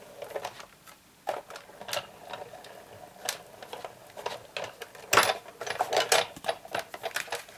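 A hand-cranked die-cutting machine pushing a platform, embossing folder and cutting mat through its rollers: a run of irregular clicks, ticks and clunks, close and fairly loud, growing busier toward the end.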